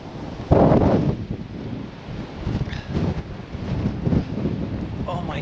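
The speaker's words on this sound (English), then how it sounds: "it is super windy and super cold" Strong, cold wind at Vista House on Crown Point buffets the microphone in heavy rumbling gusts, with faint voices heard under the roar.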